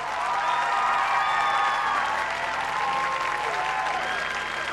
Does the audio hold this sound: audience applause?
yes